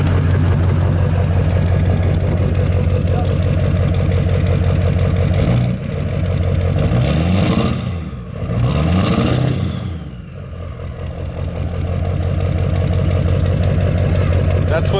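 A 6.0 Powerstroke diesel with a KC turbo and a leaking downpipe runs close by, its engine drone steady and loud with a couple of rising and falling revs midway; people talk over it.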